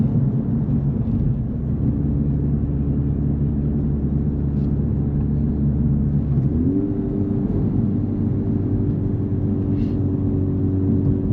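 A Honda Civic Type R FL5 cruising behind a slower Subaru Impreza, its engine a steady, loud interior drone that drops and shifts pitch partway through, with no talking.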